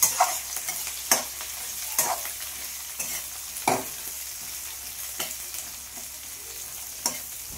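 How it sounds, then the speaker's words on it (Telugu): Onion and green chilli pieces fry in oil with garlic, sizzling steadily while a spoon stirs and scrapes the pan in repeated strokes, close and clear with no talk. "కొద్దిగా ఉల్లిపాయ ముక్కలు, పచ్చిమిర్చి ముక్కలు కూడా వేసుకొని వేయించుకోవాలి"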